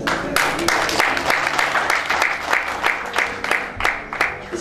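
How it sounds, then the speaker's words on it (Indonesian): Moderate applause from an audience at a K-Link Grand BOP business event in Yogyakarta, with sharp individual claps sounding clearly through a steady clapping bed that continues throughout. "berikan tepuk tangan kepada mereka"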